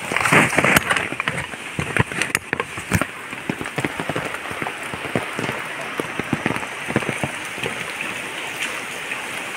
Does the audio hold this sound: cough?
no